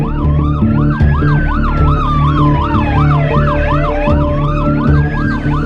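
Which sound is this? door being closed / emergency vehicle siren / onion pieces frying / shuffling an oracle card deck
emergency vehicle siren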